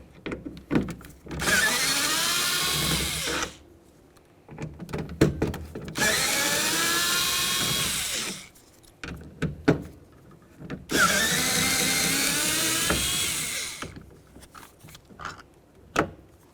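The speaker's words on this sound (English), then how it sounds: "remove our 3 mounting bolts that hold our motor to the window regulator" Power drill or impact driver backing out the three bolts that hold the window regulator motor in the driver's side rear door of a 2007-2017 Ford Expedition, three long loud whirring bursts with short pauses and small clicks between.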